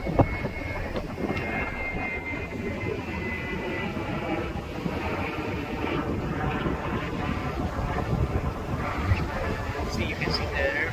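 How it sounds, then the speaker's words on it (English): An airplane passes overhead on a windy, cold evening walk outdoors, a steady low engine roar blended with gusty wind buffeting the microphone throughout. "See, you can see the airplane."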